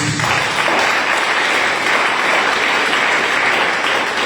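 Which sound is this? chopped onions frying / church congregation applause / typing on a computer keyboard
church congregation applause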